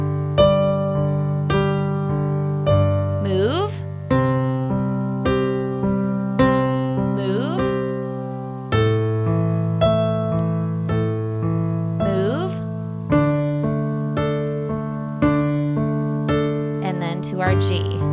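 Piano plays a repeating chord progression with a steady left-hand pattern, struck chords sounding in an even four-beat rhythm, close and clear; a single spoken word is briefly heard.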